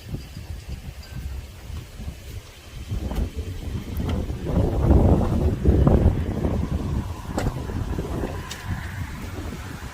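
Strong outdoor wind buffets the microphone in a continuous low rumble that swells to its loudest midway before easing, with no talk over it.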